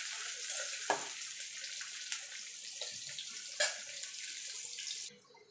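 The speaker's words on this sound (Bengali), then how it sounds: "পেঁয়াজটাকে একটু লাল লাল করে ভেজে নেব" Chopped onion frying in oil in a home kitchen for chicken curry, giving a steady bright sizzle with a few soft clinks and stirring knocks before it cuts off.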